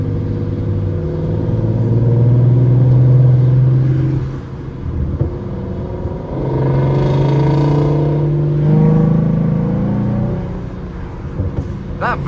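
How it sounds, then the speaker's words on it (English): A 2014 Ford Mustang with a V6 engine drives with the windows down, its loud mid-pitched engine drone swelling and easing in two long revving pushes. Road and wind noise sit under it, with brief talk near the end. "That Voodoo engine really just sounds incredible, doesn't it?"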